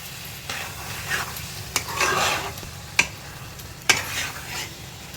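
Paneer being stirred in a hot pan, a spatula scraping and clacking against the metal in several sharp strokes over a continuous soft sizzle, close and with no voices.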